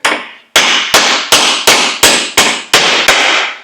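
A brass hammer strikes a clutch part on a Scout restoration, about eight sharp, loud metallic blows in an uneven series, each ringing briefly before the next, with no voices.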